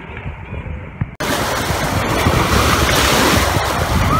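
Sea surf on a Black Sea beach at Lazarevskoye in September, slightly choppy water rolling in with a steady roar and some wind buffeting the microphone, loud and continuous after a brief quieter start.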